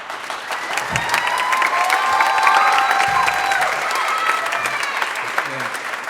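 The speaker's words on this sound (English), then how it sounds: "if you want to give them a huge round of applause once we do, that'd be awesome" A school concert crowd applauds and cheers for seniors, with loud, sustained clapping and scattered whistles and shouts building across the stretch.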